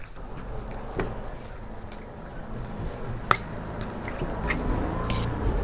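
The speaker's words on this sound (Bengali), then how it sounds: "আর এর মধ্যে দিয়ে দেবো আবার জল, দিয়ে খুব ভালো করে মাখিয়ে নেব।" Oats chila batter being mixed with water by hand, giving soft, wet squishing and dripping sounds, quiet and close, with scattered small clicks throughout.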